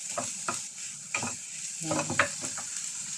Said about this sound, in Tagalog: Tapos iluto na rin natin, isunod natin itong sibuyas